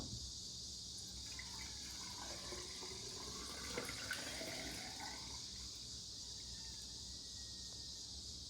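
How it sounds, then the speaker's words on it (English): Water pours steadily into a half-gallon or gallon glass jar packed with black walnut hulls, a continuous close trickle over a constant high background hiss, rising slightly midway before settling. "put the black walnut hulls or leaves into a half-gallon or gallon jar and fill with water"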